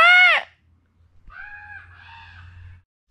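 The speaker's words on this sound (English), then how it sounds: "Do you hear that bird?" A crow-like bird gives a loud, harsh caw up close, then after a pause a fainter, longer pair of hoarse calls over a low background hum.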